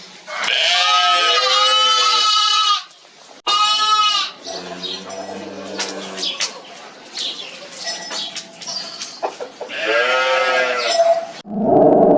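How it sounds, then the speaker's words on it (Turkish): Sheep and lambs bleat loudly in repeated wavering calls, with quieter rustling and faint murmuring between them and one more bleat near the end. "Koyunlar."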